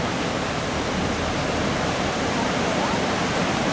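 The River Avon rushes past in a dense, even wash of flowing water. The sound is steady and fairly close and fills the whole range without letting up.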